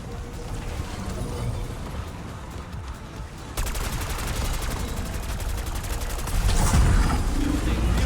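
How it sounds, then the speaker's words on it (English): Rapid automatic assault rifle fire rattles on continuously in Call of Duty Black Ops 6 Zombies, loud and dense against zombies in The Tomb map, with heavier impacts and booms swelling near the end. "So I'll just let you guys check and see how well this assault rifle handles this defense here"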